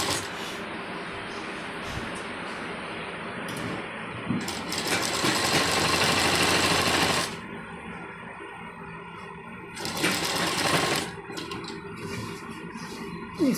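An electric sewing machine stitches a men's kurta in two loud whirring bursts, with a quieter mechanical hum and rattle between and around them.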